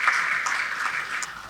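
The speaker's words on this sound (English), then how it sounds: "please could we give her a round of applause" Applause from a banquet audience fills the room, a dense, steady patter of many hands clapping at moderate loudness, tapering slightly toward the end.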